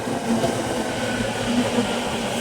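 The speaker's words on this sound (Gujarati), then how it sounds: "હાલો ઓલી બાજુ મેટ્રો આવી છે" A metro train rolls into a station platform behind glass screen doors, giving a steady, moderately loud rumble and rail hum with no talking.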